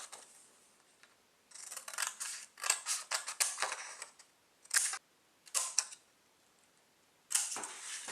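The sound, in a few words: scissors cutting paper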